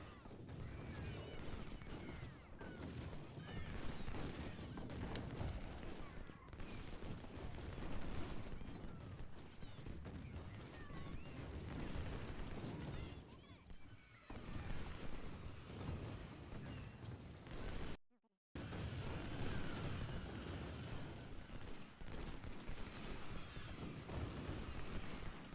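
Massed musket volleys crackle continuously in the Ultimate General Civil War game's Shiloh battle, a dense rolling fusillade of overlapping shots with a brief silent gap near the end.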